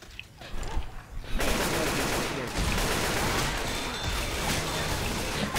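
Dense, continuous gunfire from the zombie shooter Left 4 Dead 2, rapid shots blurring into a sustained roar after a brief quieter opening, loud and close throughout.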